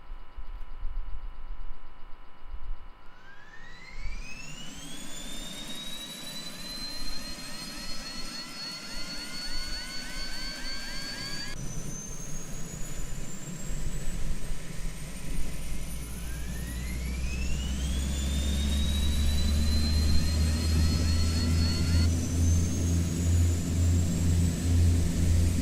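A simulated Piper Cheyenne III turboprop spools up, its rising whine climbing steadily, then a second engine start repeats the climbing whine over a building low roar, loud and continuous.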